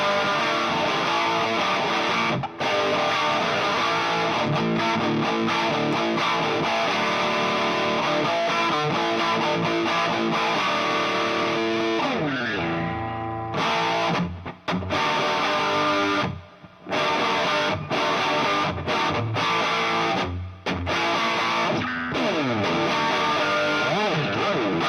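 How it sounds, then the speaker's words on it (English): A guitar amplifier at full volume with the boost engaged roars with continuous loud, heavily distorted playing, with sustained chords and brief gaps and stabs around the middle, and no voices over it. "This is the amp turned all the way up to 10 now."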